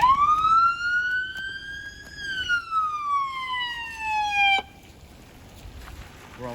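A Stanford Police Department patrol car siren wails close by in a long, steady rising-and-falling tone, then cuts off abruptly, leaving quiet road ambience.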